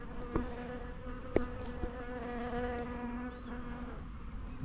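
Steady, close buzzing of many honey bees flying around a hive, droning together, with a few sharp knocks or taps breaking through the hum.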